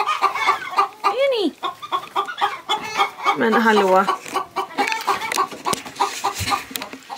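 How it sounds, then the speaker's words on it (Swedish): Adult hens in a henhouse cluck and squawk loudly and continuously, with rising and falling calls close by, while someone speaks briefly over them. "Kycklingarna är numera i hönshuset och de stora hönsen är inte helt nöjda, låter det som."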